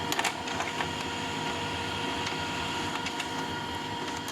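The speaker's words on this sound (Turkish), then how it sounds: "Yazdır dediğimizde çıkan sayfayı gördüm bakın." A Brother HL-1111 laser printer runs a page through, giving a steady mechanical whir with a few faint clicks near the start, close and continuous for the whole stretch.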